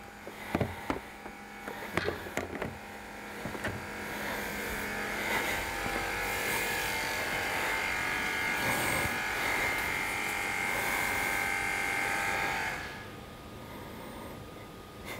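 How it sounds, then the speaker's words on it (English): An air suspension pump compressor runs with a steady electric buzzing whine for about twelve seconds after a few clicks and knocks, then cuts off. "Now let's turn on the pump."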